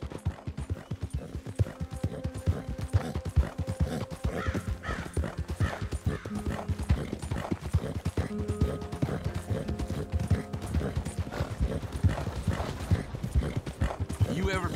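Steady clip-clopping of horse hooves in a brisk rhythm from the video game Red Dead Redemption 2, close by, with voices talking over it and a horse whinnying.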